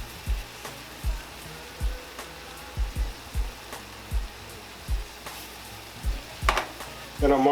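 Crawfish and shrimp searing in a pan while being seasoned, with a steady sizzling hiss broken by repeated light scraping and stirring knocks, close and moderately loud, no talk.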